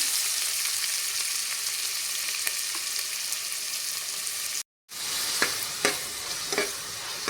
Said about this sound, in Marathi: हा कांदा तेलामध्ये व्यवस्थित परतून घ्यायचा